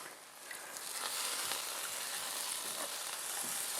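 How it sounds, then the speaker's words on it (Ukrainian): Potato dumplings frying in a pan for a traditional Polesian dish, giving a steady, close, loud sizzle and crackle that continues throughout with no talking. "Чуєте, як шкварчить?"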